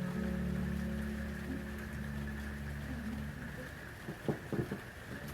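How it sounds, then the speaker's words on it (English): Steady rain patters across a surface in a continuous wash, with a few louder drops or knocks near the end; a low sustained tone hums underneath during the first part. "That's the lovely backdrop of the rain."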